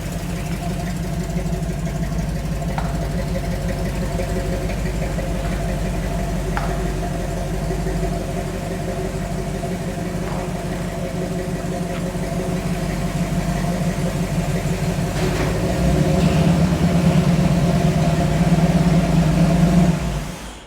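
A fire-damaged 1984 square body truck engine idles steadily after repair, a continuous low rumble with a faint rhythmic lope that grows slightly louder toward the end before cutting off.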